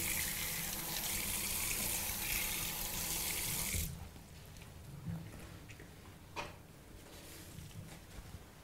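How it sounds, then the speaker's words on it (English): Water runs from a tap for rinsing during bathroom cleaning, a loud steady gushing stream close by that stops abruptly partway, leaving a few faint drips and knocks afterward. "If there is hot water, you can also use hot water for rinsing."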